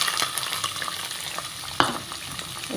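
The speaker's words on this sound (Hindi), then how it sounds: "पियाव बरो करून भाजूंक जायो" Chopped onion sizzles and crackles in a pan with oil while being stirred, cooking for Goan crab sukka; a steady close frying hiss with occasional sharper pops.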